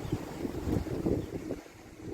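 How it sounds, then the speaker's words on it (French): Wind gusts by the ocean shore on Réunion near Pierrefonds, buffeting the microphone with a low, rumbling, uneven roar that rises and falls throughout. "Il y a un peu de vent, ça fait du bien"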